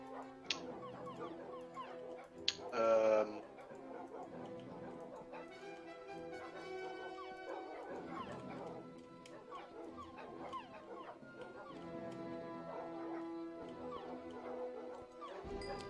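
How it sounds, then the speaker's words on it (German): Dogs in the Minecraft video game whimper, yip and bark in short bursts over steady game music and sound effects, a busy mix throughout. "Es gibt noch ausreichend Zeit, um diese Hunde zu Ende zu füttern."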